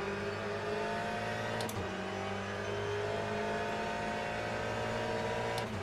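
A car in a racing game revving hard while spinning its tyres, a sustained loud engine whine with steady harmonic drone and brief sharp squeal bursts, no talking.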